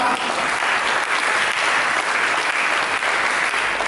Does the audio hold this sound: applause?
yes